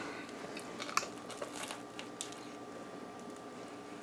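A close, crisp bite into an everything bagel breakfast sandwich with pork roll, egg and cheese lands about a second in, followed by a few softer crunchy chews.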